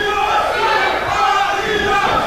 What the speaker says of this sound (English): Listen to this crowd, Trevin.